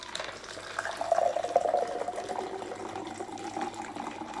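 A freshly shaken margarita is poured into a glass, a close, moderately quiet trickling and splashing of liquid that swells and thins over a few seconds.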